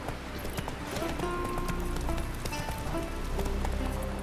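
Roach, Geralt's horse in The Witcher 3, gallops in a quick, continuous clip-clop of hooves, mixed with busy game ambience and a dense background bed.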